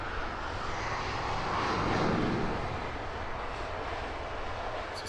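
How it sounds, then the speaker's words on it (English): An Aer Lingus airliner on final approach to touch down at Heathrow Airport roars past at moderate distance in low cloud, a broad engine rumble swelling then easing. "This is Aer Lingus flight 710, about to touch down from Cork."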